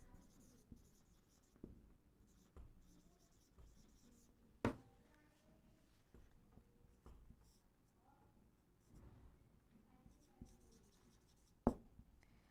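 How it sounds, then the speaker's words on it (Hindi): Marker or chalk writing on a board during a biology lesson, a steady quiet scratching and squeaking under a teacher's soft voice, with a few sharper taps as strokes begin. "फर्स्टली जो रिसेप्टर है उसका नाम यहाँ पर मैं लिखती हूँ"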